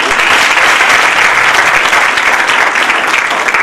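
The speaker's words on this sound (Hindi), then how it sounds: "बजाओ ताली" A large audience at a talk bursts into loud, sustained applause, a dense wash of clapping hands that holds steady throughout.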